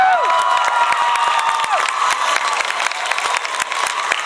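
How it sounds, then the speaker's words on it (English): An audience at an anime convention voice actor roundtable bursts into loud, sustained applause with scattered cheers, a dense crowd clapping continuously throughout. "let's give a round of applause"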